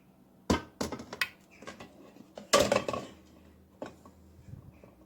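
Several hard clinks and knocks as glass jars are set upright in water in a pressure cooker, irregularly spaced, close by, with no talking.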